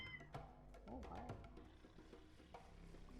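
Cats meow in a room, several drawn-out calls rising and falling at low volume beneath background game music and a faint voice.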